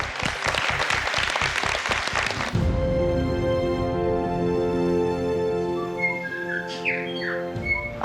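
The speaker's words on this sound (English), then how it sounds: "Oh, you can hear the birds?" Birds chirp and whistle outdoors in Wellington, sharp rising and falling calls over a steady background hum, following a burst of loud applause-like clatter at the start.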